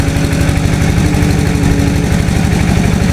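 A groundwater well drilling rig's engine runs steadily and loudly at close range, with a continuous low, pulsing mechanical drone throughout and no voices.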